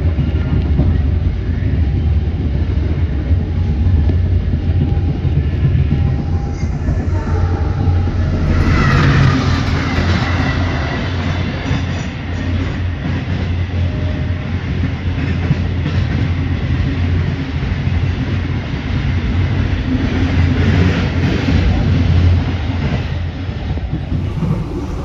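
Heard from inside a subsidized Bengawan economy-class train with upright facing seats, a loud, steady rumble and clatter of wheels on rails continues throughout, with brief swells of rushing noise.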